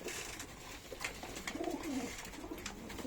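Soft pigeon cooing, a low warbling call rising and falling near the middle, faint against a steady background.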